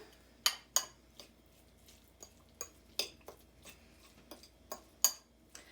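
Carrots and onion being mixed together in a bowl, with scattered sharp clinks and light scrapes of a utensil against the bowl at an uneven pace. The sounds are faint and close, with no voices.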